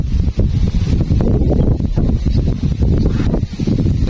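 Strong wind buffets the microphone on an outing for airgun fishing near clear water, a loud continuous low rumble with gusty swells and rustling.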